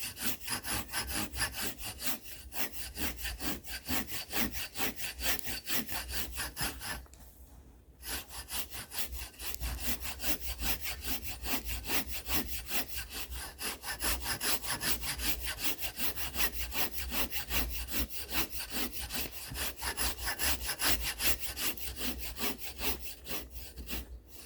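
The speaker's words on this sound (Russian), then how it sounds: "Немножко тяжелее пилится, чем сосна. Но тоже пилится." Hand saw cutting dry oak, harder than pine, in a steady back-and-forth rasping rhythm of rapid strokes, close and continuous with one short pause.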